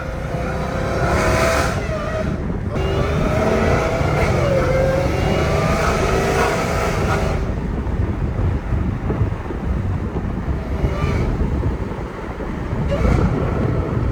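A Dodge Challenger Hellcat Redeye's supercharger whine rises and falls as the car drives, loud and steady under heavy road and wind roar, with no talking.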